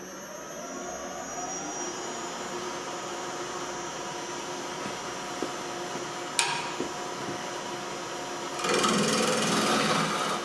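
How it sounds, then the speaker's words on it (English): Hollowing tool cutting into wood on a lathe during woodturning: a steady, gritty rasp runs over the motor hum, with a few brief clicks and a louder surge of cutting noise near the end. "the best way to use this tool is to push into the wood."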